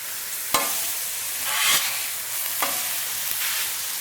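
Hash browns sizzle steadily on a Blackstone griddle as a spatula scrapes and flips them, with a few sharp metallic scrapes over the continuous hiss, close up and without voices.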